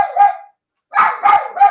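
A dog barks loudly and close by: one bark, a short pause, then three quick barks in a row, with no talk over them.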